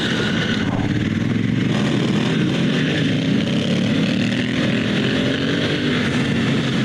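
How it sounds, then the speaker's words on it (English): A red Honda Africa Twin adventure motorcycle on Metzeler Karoo Street tires rides along with a loud, steady engine drone and wind rush, sounding close and continuous with no talk. "I'm riding the Karoo Street on this red Africa Twin, and Travis on the silver Africa Twin"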